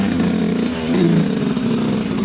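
Dirt bike engine on a Colorado mountain trail in Rampart Range, revving loud and close with a steady throaty drone that surges and climbs in pitch about a second in, holding strong throughout.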